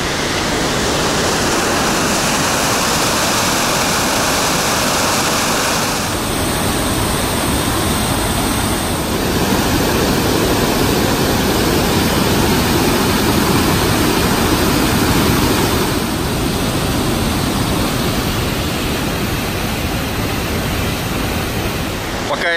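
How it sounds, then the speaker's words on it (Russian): Loud, steady roar of a waterfall in the Carpathians fills the whole stretch, a broadband rushing wash that never lets up, close and constant. "Видно водопад с другой стороны, сверху, с мостика."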